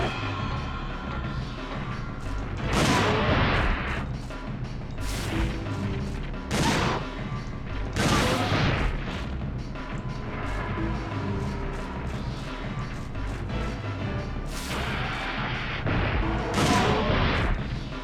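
Rapid video game gunfire, with repeated heavy shots and crashing bursts rolling in waves, loud and dense throughout with periodic bright impacts standing out above a constant rumble.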